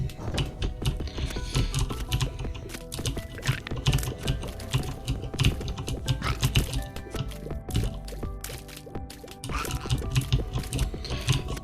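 Computer keyboard keys pressed rapidly and repeatedly during a session of The Binding of Isaac, dense irregular clicking and clacking close to the microphone over game sounds.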